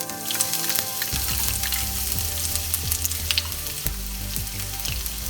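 Cumin seeds and chopped garlic crackle and sizzle in hot oil over a medium-low flame, a continuous close hiss with small pops. Soft background music runs underneath and there is no speech.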